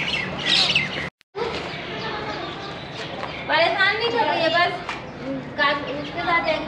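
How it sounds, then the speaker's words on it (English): Parrots squawk and chirp in a busy outdoor spot at the Qutub Complex in India, their harsh calls repeating over steady crowd noise and nearby talk. "Parrots."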